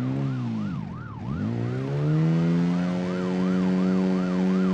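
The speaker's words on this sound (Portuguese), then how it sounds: "Tô escutando sirene ainda" An emergency siren in BeamNG.drive wails in regular rising and falling sweeps while a Satsuma car engine drones underneath, its pitch dipping briefly then holding steady and loud.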